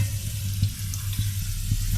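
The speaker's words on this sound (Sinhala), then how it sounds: "මේක දැන් මේ උතුරනකොට අපි මේ අලු කෙසෙල් ටික අපි දාගන්නවා" Ash plantain pieces go into a pot of boiling Sri Lankan curry, bringing a steady bubbling and sizzling with a few soft splashes and stirs, close and moderately loud.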